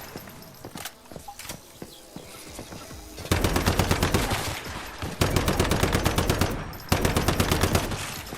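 Rapid automatic gunfire from a newly crafted weapon in the shooter game Once Human, starting with a few scattered shots, then loud close bursts of fast repeated rounds separated by brief pauses.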